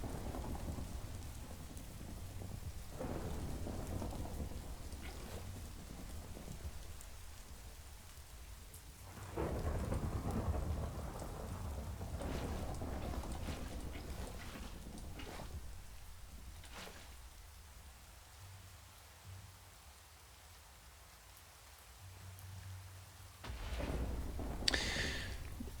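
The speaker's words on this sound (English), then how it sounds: "That was more lightning. I'm scared." Steady rain pours through a daytime thunderstorm, with repeated thunder rumbles swelling and fading over the downpour and a louder crack near the end.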